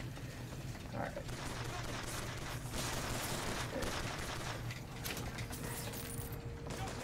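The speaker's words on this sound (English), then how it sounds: "Where are these guys shooting me from?" Enemy gunfire in Bioshock Infinite, rapid clattering bursts of shots mixed with mechanical rattling, fairly steady and dense across the whole stretch, with a voice speaking briefly over it.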